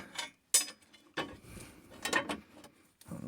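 Bolts being started by hand on the front end of a Ford F250 Super Duty during a front-end swap, a few close metallic clicks and scrapes in short separate bursts with pauses between.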